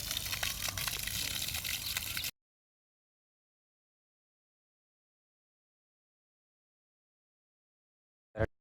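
Water gushes out of a farm irrigation pump motor after its valve is opened. It makes a loud, steady rush for about two seconds, then stops abruptly, followed by silence and one short thump near the end.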